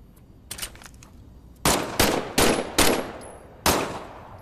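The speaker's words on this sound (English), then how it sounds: "why don't you test fire your weapon?" A weapon being test-fired in the WWII game Medal of Honor: Above and Beyond, with a few quieter shots followed by five loud, sharp bursts at irregular intervals, each ringing out briefly, and no voices.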